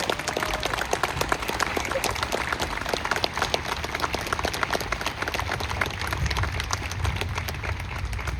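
Applause for veterans at a Memorial Day ceremony in Libertyville, Illinois: an audience claps steadily and fairly faintly for several seconds, as a dense, sustained patter heard from a distance.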